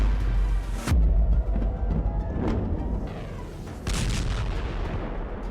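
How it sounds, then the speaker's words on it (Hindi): Iranian missiles strike Tel Aviv and Haifa in a series of heavy booming blasts with rumbling echoes and distant crackling, loud and sharp at the onsets over continuous background noise. "तेल अवीव और हाइफा में गिरती हुई ईरान की मिसाइल देखिए"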